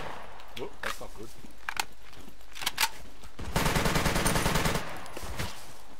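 Automatic gunfire in the survival shooter SCUM, scattered single shots and then a sustained rapid burst near the middle, heard under a player talking.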